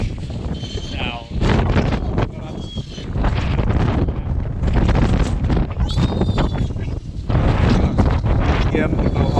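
Strong gusting wind on a high mountain peak buffets the microphone in heavy, continuous rumbling bursts, loud and close, while a person speaks intermittently underneath.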